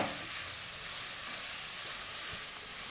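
Goat lung with garam masala sautés in a pan, giving a constant soft sizzle and steamy hiss throughout, even and close with no voices.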